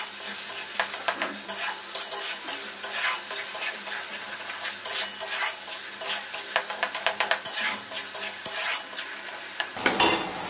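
Spice paste fries with reddish-browned onions in a pan for Bengali mutton curry. Brisk, repeated stirring scrapes and clinks ride over a constant close sizzle, with no voices.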